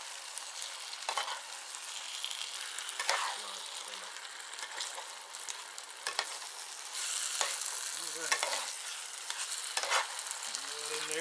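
Salsa from a jar stirred into rice in a hot pan, a soft steady sizzle broken by repeated scraping strokes of a spoon, fairly quiet.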